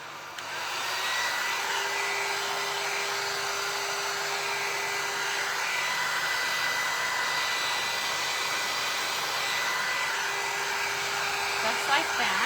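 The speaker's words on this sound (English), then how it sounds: "Let me do a little bit of drying so you can see." A hair dryer runs steadily and close by for about twelve seconds, drying gilding wax on a plaster picture frame decorated with dredged flowers, a continuous loud whir with a faint tonal hum and no talk.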